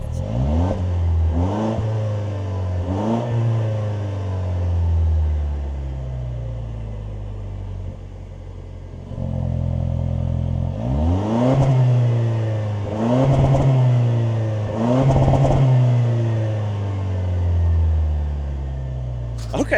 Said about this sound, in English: Down below we have exhaust. Let's see what it sounds like.